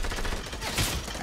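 Gunfire in the Fortnite video game, with shots coming from a sniper off to the right, sounding as a dense, continuous rattle of shots with a louder burst near the end. There is no talking.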